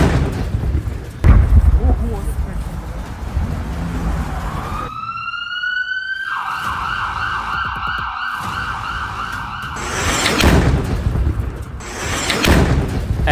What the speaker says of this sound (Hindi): ये है पुतिन का ड्रोन धमाका।